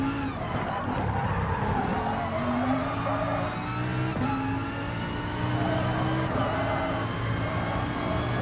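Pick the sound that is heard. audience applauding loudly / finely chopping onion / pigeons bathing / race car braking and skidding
race car braking and skidding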